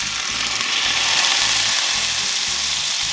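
Calvados sizzling in a frying pan with apple pieces, a steady dense close-up fry crackle running without break and with no voices.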